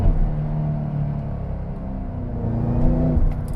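A 2013 Shelby GT500 with a manual gearbox and V8 engine holds a deep, steady rumbling rev, swelling slightly near the end, loud and close with no talking.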